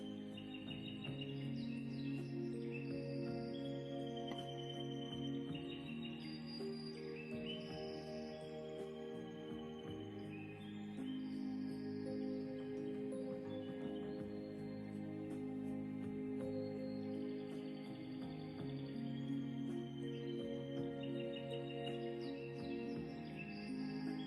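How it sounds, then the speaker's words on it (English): Birdsong outdoors, with faint chirps and calls scattered over a soft sustained musical backdrop, continuing quietly throughout with no talking. "Listen to the birds."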